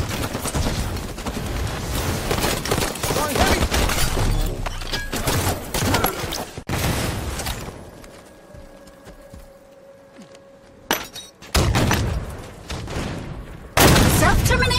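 Rocket launcher shots and explosions from Halo 5 multiplayer on the Coliseum map pound in dense, loud bursts, with an announcer-style game voice, a lull, and more sharp blasts near the end.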